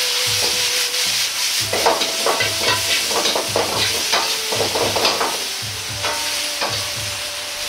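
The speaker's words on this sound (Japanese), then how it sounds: "ブロッコリー以外の野菜を全部入れて炒めていきます。" Vegetables other than broccoli stir-fried in a pan, with mochi okoge-style Chinese dish ingredients: a constant sizzle broken by repeated scraping and clacking strokes of a utensil against the pan, close up and without talk.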